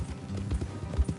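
Horse hooves clip-clop steadily on a trail in Red Dead Redemption, a loose rhythmic patter of several hoofbeats at close range over a low background rumble.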